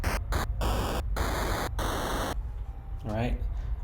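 Harsh bursts of hissing white noise from an 8-bit synth noise oscillator in short chopped rhythmic hits, then a longer static wash that fades as a voice begins speaking.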